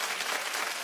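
Short snatch of talk-show studio audience clapping, a dense, uniform patter of many hands lasting under a second.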